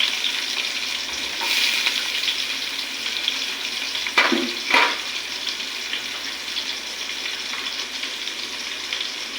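Onion with ginger and garlic paste frying alongside bay leaves in a pan for pulao, a steady close sizzle with a couple of distinct scraping stirs near the middle, no voices over it.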